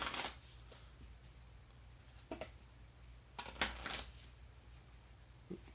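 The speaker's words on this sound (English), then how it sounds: "Everybody just likes watching me shuffle" Playing cards are shuffled in a few quick, soft riffling bursts with short pauses between them, close and quiet in an otherwise still room.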